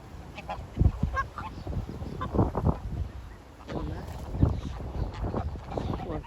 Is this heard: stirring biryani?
no